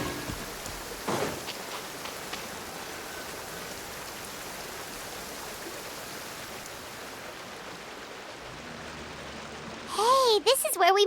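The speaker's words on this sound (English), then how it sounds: "This heavy rain must be quite an inconvenience for you." Steady hiss of heavy rain falling, continuous and moderately loud for most of the stretch, with a few sharper sounds and a rising musical tone toward the end.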